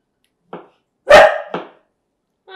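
A dog barks three times, close by, with short pauses between the sharp barks; a fourth bark starts at the very end.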